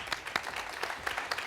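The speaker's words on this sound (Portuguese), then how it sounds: "Uma salva de palmas para William Vac." A studio audience at a Brazilian television interview show gives brief, fairly faint applause, with scattered claps rising out of a soft wash of clapping.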